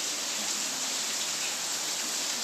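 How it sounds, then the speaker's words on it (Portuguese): Steady rain falls as a dense, even hiss with no break, constant and moderately loud throughout, with no voices over it. "Gente, aqui tá chovendo."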